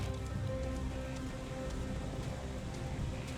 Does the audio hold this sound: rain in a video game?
yes